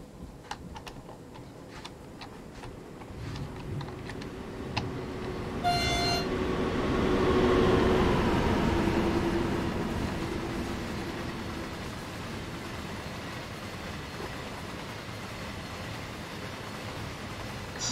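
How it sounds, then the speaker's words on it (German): A DB Class 187 electric locomotive of LTE passing by in Train Sim World 2 on the Dresden–Riesa line, a rising rumble that swells to a peak around the middle and slowly fades, with some clicking at the start. "betrachten unseren Zug bei der Vorbeifahrt"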